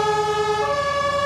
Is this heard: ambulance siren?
yes